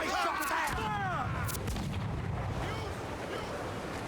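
Incoming cannon fire in the naval battle of Assassin's Creed 4 Black Flag, with booming shots and splashing impacts rumbling over ocean noise while crew voices shout in the background.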